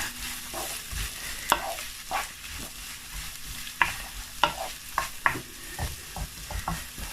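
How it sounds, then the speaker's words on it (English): White and red onion frying for a lamb curry, stirred with repeated spoon scrapes and knocks against the pot over a steady sizzle, close and clear with irregular strokes, no talking. "Next, I'm going to be adding the onion, white and red onion. Mix that together."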